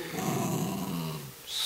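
A dog performing a trick growls on command, a continuous low rumbling snarl held close and steady for over a second before it breaks off.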